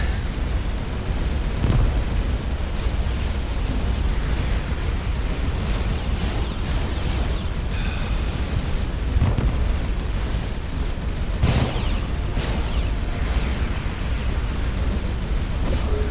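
Missiles burst one after another during a space battle in Starcom: Unknown Space, dense booming blasts over a continuous rumbling din, with several sharp, louder hits standing out.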